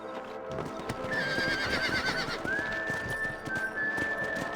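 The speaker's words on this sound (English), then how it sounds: "Let's get back on the horses and see what else is going on." In the video game Red Dead Redemption, horse hooves clip-clop steadily close by, joined by a long, high whinny that rises and holds over the trotting rhythm.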